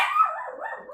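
A single close, loud dog bark that trails into a short whine-like howl, heard alone and without talk.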